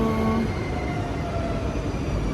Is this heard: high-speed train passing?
yes